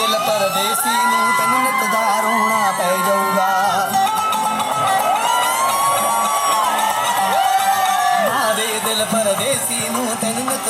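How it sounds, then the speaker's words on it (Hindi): Loud crowd cheering with whoops and shouts fills a celebration hall, sustained and dense across the whole stretch without a break. "So sweet, हमारे किरण के लिए एक बार तालियां। Put your hands together."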